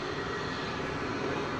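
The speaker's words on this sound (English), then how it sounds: "It's American Flight 2540 arriving from Omaha," American Airlines Boeing 737-800 arriving at DFW airport from Omaha, a steady broadband jet engine roar, continuous and moderately distant, without talk.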